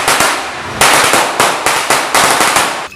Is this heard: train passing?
no